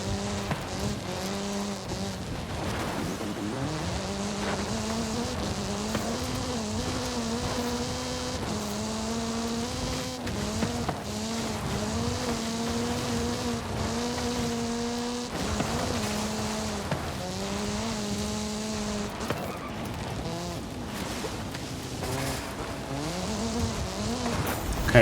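Racing cars in the video game Forza Horizon 5, engines droning and revving steadily through gear changes for the whole stretch, with no talking.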